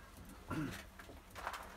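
A stray blue pigeon with feathered feet and yellow eyes gives a few soft, low coos close by, brief and quiet against faint background noise.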